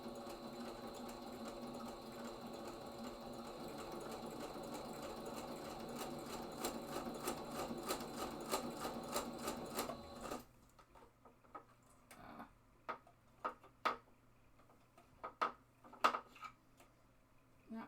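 Sewing machine stitching through a bookbinding project, a fast steady mechanical whir for about ten seconds, then stopping and giving way to scattered clicks and handling taps.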